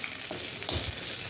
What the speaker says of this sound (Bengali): এটা একটু ভালো করে ভাজা ভাজা করে নিই।